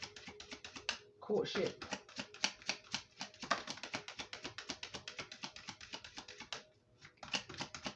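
Tarot cards being shuffled in quick, crisp riffling bursts of papery taps that run almost continuously, with a short pause near the end, while a person talks over them.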